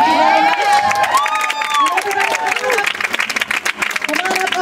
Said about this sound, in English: Come on up on stage so we can all give a big round of applause.